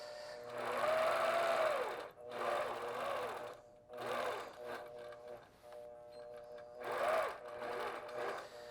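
A longarm quilting machine stitches a log cabin quilting design with rulers, its motor whirring in repeated bursts that rise and fall with short pauses between runs, fairly close and steady.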